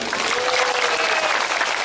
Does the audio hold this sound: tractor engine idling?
no